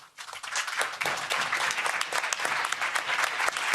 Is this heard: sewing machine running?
no